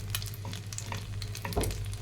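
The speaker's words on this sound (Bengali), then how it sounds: "ভাজছি বড়াটা, জৈতুন তেল দিয়ে করা" Mustard flower fritters frying in olive oil in a hot kadai, a steady close sizzle with faint stirring and a low hum underneath, no voices.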